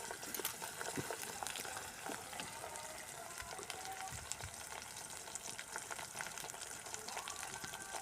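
Ginger frying in oil during village cooking, a dense, continuous bubbling sizzle with crackling pops throughout, close and steady with no voices.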